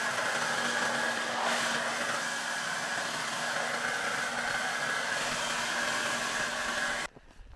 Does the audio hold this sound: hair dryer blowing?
yes